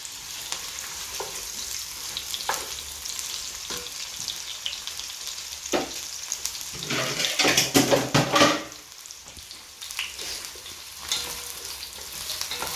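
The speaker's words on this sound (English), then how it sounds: "I will put the sausages to give them another fry" Sausages fry in a pan, a continuous soft sizzle with scattered crackles and pops, swelling into a louder burst of sizzling and stirring around the middle before settling back down.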